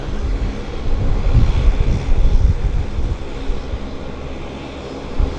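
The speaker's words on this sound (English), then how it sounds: "might get this WestJet departure then" A WestJet airliner departs Vancouver YVR airport with a loud, continuous jet engine roar that swells and rumbles steadily nearby, with no voices.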